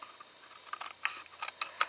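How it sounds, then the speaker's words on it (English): Scissors snip through card while shaping a chocolate box lid, a few sharp, quiet cuts in an irregular rhythm, close and isolated against a faint background hiss. "I just angle my scissors very slightly so you're not coming too close to that edge"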